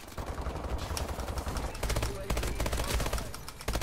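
Bursts of automatic gunfire from Call of Duty Advanced Warfare crackle in rapid succession, loud and sustained, with a voice talking faintly underneath the shooting.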